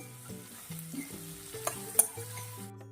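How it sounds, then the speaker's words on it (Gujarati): Large onions fry in a pan until golden brown for a Punjabi-style paneer makhani, giving a steady close sizzle with soft stirring over a tonal melody. "એને પણ આપણે એડ કરી દઈશું અને થોડી આપણે ગોલ્ડન બ્રાઉન થવા દઈશું ડુંગળીને"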